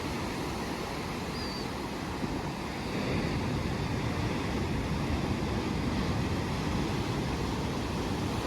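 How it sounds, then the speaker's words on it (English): Surf breaking at the mouth of a bay on the coast between Portland and Port Campbell, a steady broadband roar of waves rolling in, with wind buffeting the microphone throughout and no voices. "good view of the mouth of the bay and the surf breaks out here"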